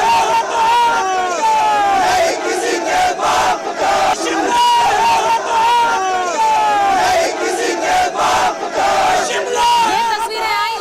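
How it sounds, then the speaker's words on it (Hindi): A large crowd of protesters marching in Shimla against a mosque chants and shouts in loud, continuous unison, with rhythmic surges of voices and no pause throughout. "मस्जिद के विरोध में लोग सड़कों पर उतर आए"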